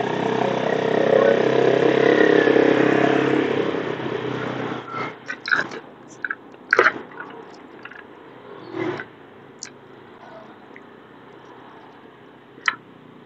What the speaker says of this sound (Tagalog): Tambutso.